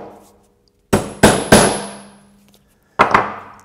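A hammer strikes a center punch set on a wooden rail for a Greene & Greene style table: three sharp, close metallic taps in quick succession, a pause, then two more, each ringing briefly.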